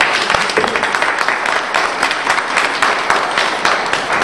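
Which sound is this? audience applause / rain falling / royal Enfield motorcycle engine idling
audience applause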